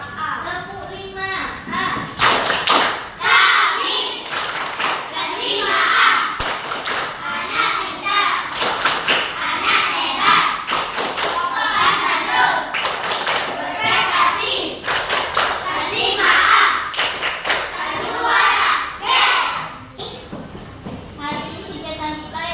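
A primary class of fifth-grade children claps out the 'tepuk 5' chant in quick rhythmic bursts, loud and close, with a teacher's voice and children's voices mixed among the claps.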